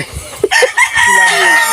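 A Shamo rooster crows once, loud and close, its long drawn-out call trailing off.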